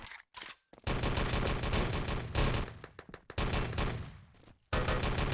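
Rapid automatic gunfire and bursts of shots from the online shooter Enemy Territory during a 6on6 LAN tournament match, loud and nearly continuous with short gaps between volleys.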